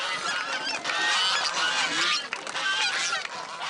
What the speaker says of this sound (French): les oies du Capitole franchissent le pont du premier coup